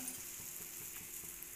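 Oil-brushed chapati sizzles softly on a hot pan, a faint steady frying hiss with light rhythmic ticks as it cooks on both sides.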